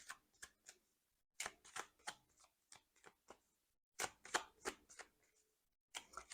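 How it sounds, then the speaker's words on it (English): Tarot cards shuffled by hand in short bursts of crisp, rapid riffling clicks and slaps, close and clear, separated by brief silent pauses, with no voice. "As I'm shuffling the cards"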